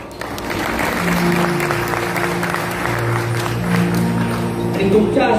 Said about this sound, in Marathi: सगळ्यांच्या टाळ्या होऊ द्या